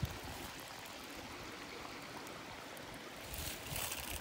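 Spring creek water tumbles over huge boulders on Buford Mountain in Missouri, a soft, steady rushing and trickling that stays even throughout, fairly faint with no voices.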